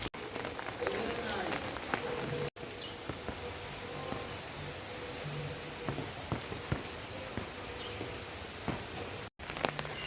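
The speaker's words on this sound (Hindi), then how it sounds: "और बारिश फिर से बढ़ने लग गई है।" Steady rain pours down in Haridwar, a dense continuous hiss close by with scattered drips and taps, while a voice speaks intermittently over it.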